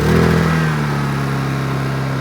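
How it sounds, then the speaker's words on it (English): A Honda EU2200i portable generator with choke on catches after pull-start tugs, its small engine firing up loud and close, then settling into a steady, even running hum. "I'm going to hit the choke and give it a couple of tugs. It should fire right off."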